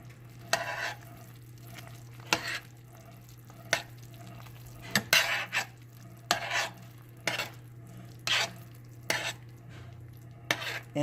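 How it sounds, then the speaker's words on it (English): A spoon stirs baked sweet potato yams sprinkled with cinnamon in a pan, giving a series of soft, irregular scraping and clinking strokes over a steady low hum, close and fairly quiet, with no talking. "if you actually need to stir, just don't stir really hard. Stir very lightly."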